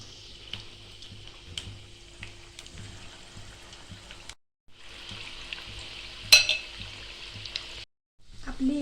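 Chicken 65 pieces fry in hot oil with a soft, continuous crackling sizzle, broken by a couple of brief gaps and one sharper spatter midway.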